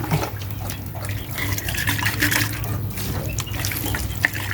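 Water is poured for chickens in a continuous splashing stream, moderately loud and close, with faint background noise and no talk.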